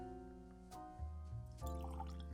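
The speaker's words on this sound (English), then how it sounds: "I'm actually going to pour the current Johnnie Walker here first. Let's get this out into a glass." Johnnie Walker whisky pours from a bottle into a glass, a close gurgling trickle that rises in pitch as the glass fills, over a steady low hum.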